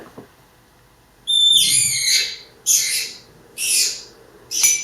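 A small bird like a sparrow chirps in four bright, high bursts separated by short pauses, clear and close with no voices, played as a quiz sound.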